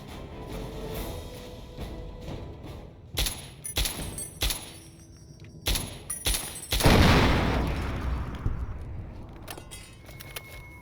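Gunfire from the perforator weapon in the video game Fallout 3 comes as several sharp separate shots, followed by a louder burst with a decaying rumble, then a few fainter clicks.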